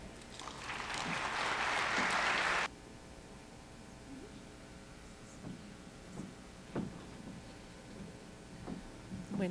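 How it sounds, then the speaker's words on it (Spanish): Applause from an audience at a scientific conference on metabolic syndrome bursts out dense and bright for a few seconds, then stops abruptly, leaving room tone with scattered small knocks and shuffles. "para quienes pido un fuerte aplauso"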